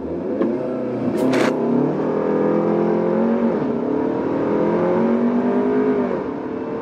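A 2020 Audi A3 launching and accelerating hard, its engine revving loudly and rising through gear changes, with a brief higher whine near the start and steady strong engine drone throughout, no voices.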